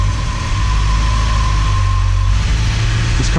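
A 1960s-style Alfa Romeo Giulia Veloce Spider in worn condition idles while warming up just after a cold start, a loud, steady low rumble close by with no talking.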